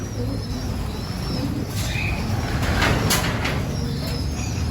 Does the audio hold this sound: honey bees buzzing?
no